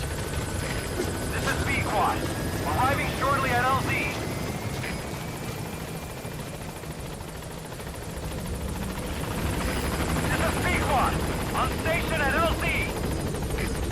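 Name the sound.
helicopter arriving in the video game Metal Gear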